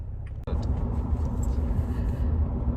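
Steady low engine rumble and road noise from inside a car moving slowly through city traffic, with a sharp click near the start and faint higher sounds above the drone.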